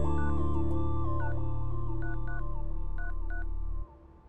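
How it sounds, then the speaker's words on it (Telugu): A telephone signals an incoming call with a busy run of electronic tones: stepping beeps and tone pairs over a steady drone, loud and close, cutting off near the end. "మా డాడీ కాల్ చేస్తున్నారు."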